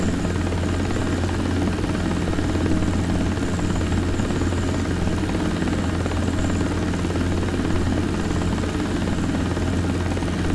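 A helicopter fitted with fixed floats in a flight simulator game holds a steady, loud rotor drone while landing, with continuous engine buzz throughout and no pauses.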